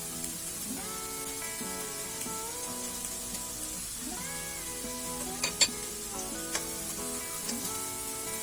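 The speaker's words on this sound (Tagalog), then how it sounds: "Then, sulisan natin yung ating bawang." Garlic sizzles steadily in a hot pan after onions for a Filipino chicken dish, with a continuous frying hiss, a few spoon scrapes and light clinks, and music playing underneath.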